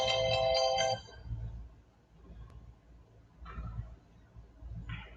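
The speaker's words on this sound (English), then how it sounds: "I got it down mute, but it's still ringing." A phone ringtone plays a bright electronic melody loudly at the start, then returns in fainter, shorter bursts between stretches of low background noise.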